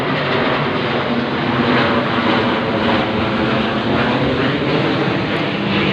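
Steady broadband roar of an airplane passing overhead, loud and continuous, with no voices present.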